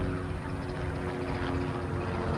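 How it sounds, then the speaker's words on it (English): A helicopter passes over a cemetery, heard as a steady, moderately distant engine and rotor drone that holds evenly throughout with no talking. "There's a helicopter."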